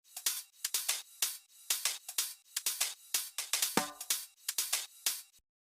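Crisp hi-hats in a future house drum loop tick in a steady metronome-like pattern, short closed hits alternating with longer open hats, loud and clean with no talk.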